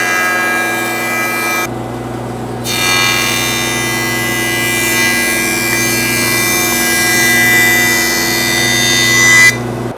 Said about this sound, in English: when you're jointing this, what you want to do is you want to go far enough down that you take off the radius corner on the 2x4